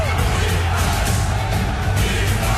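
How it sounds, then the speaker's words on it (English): A stadium crowd roars in a frenzy after a Pittsburgh Steelers touchdown by Heath Miller in a 2008 NFL game. The crowd noise is loud, dense and unbroken for the whole stretch, with shouts and yells blended into it. "This crowd in a frenzy"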